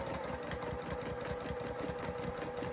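Close and steady, a sewing machine stitches oval pebble shapes in quilting, its motor whirring under a fast, even needle clatter with no pause and no voices.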